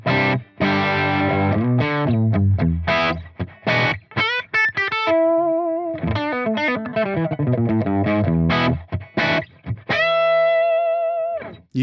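Electric guitar played through a Neural Amp Modeler amp profile with an impulse response, giving a distorted tone; strummed chords and picked single notes ring out with pauses between phrases.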